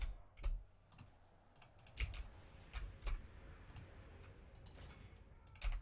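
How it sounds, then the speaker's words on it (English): Keys clack on a loud mechanical keyboard in uneven bursts of sharp, close clicks with brief pauses between them, set against near silence and no talking. "I do have a bit of a loud keyboard. It is mechanical, because I love typing with those."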